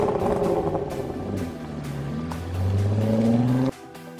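A 2016 Honda Civic EX engine revs loudly and close, pitch climbing steadily through several seconds before cutting off abruptly near the end, with no talk over it.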